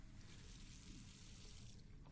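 Water runs steadily into a basin with a copper drain in The Last Door video game, a faint even trickling flow that cuts off near the end.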